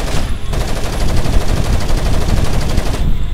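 Sustained automatic gunfire from the tactical shooter game Tom Clancy's Rainbow Six Vegas 2, a dense loud rattle of rapid shots running through the whole clip with no talk over it.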